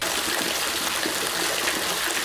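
Water gushing from a frozen, broken pipe and leaking into a shop bay, a steady, dense hiss of flowing water that stays loud and unbroken throughout.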